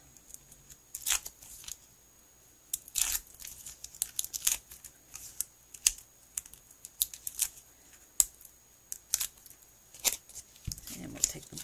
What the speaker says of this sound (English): Peel the backings off all this.